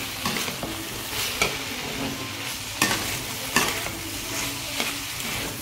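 Curry seasoned with sambar powder being stirred in a frying pan, a steady close sizzle with repeated scraping strokes of the spoon roughly every second, no voices.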